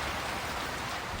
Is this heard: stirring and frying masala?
no